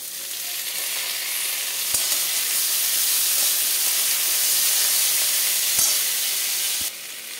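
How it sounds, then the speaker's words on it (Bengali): Ginger garlic paste and chopped tomato fry in a hot pan, giving a loud, steady sizzle and hiss that runs unbroken throughout, with no voices. "আদা রসুন বাটা দিয়ে অল্প ভাজবো"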